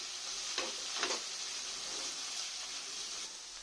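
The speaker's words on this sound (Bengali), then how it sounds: "দিয়ে আমি ভালো করে আবার মশলাটা এর সাথে কষে নেব যতক্ষণ না তেল ছাড়বে।" Spice masala is stir-fried in oil for a koi fish curry, making a soft, steady sizzle close by, broken by a couple of brief spatula scrapes early on, with no talking.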